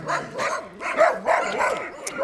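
A dog barks repeatedly at close range beside a hillside footpath, in a rapid series of loud, yelping barks that run through the whole stretch.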